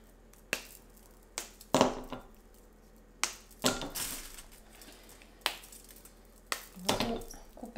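Chocolate being chopped with a knife on a board for melting, a series of sharp, crisp cracks and snaps at irregular intervals, close and fairly loud.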